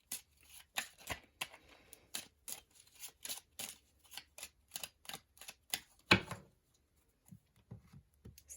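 An oracle card deck being shuffled and handled close up: a rapid series of crisp riffling snaps and flicks, followed by a louder slap and a few softer card sounds as cards are drawn in a quiet room.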